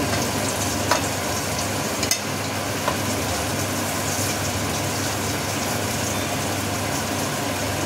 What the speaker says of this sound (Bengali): পাতাটা একটু ঠান্ডা হলে ভালো করে ভেজে নিতে হবে